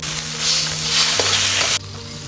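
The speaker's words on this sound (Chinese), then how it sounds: "再加了点酱油啊。 酱油给爆香了" Pork stir-fried in a wok with ginger slices, star anise, Sichuan peppercorns, bay leaves, cinnamon and soy sauce, a loud close sizzle with stirring that drops off sharply near the end.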